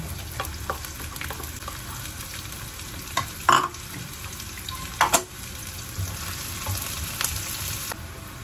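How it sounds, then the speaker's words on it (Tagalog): Onion and garlic frying in a pan for olive oil shrimp pasta, a steady close sizzle with a few brief clinks of stirring scattered through, no voices. "Sunod natin ilagay ang ating sibuyas, ang ating onion."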